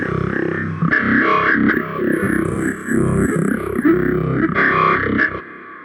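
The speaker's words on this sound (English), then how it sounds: "It's kind of like a robot, weird robot cyborg talking kind of a thing." A gnarly robotic, cyborg-like talking synth from the Omnisphere 2 Robotica preset, a dense distorted vowel-shaped drone that warbles and shifts continuously, loud and unbroken for several seconds before cutting off.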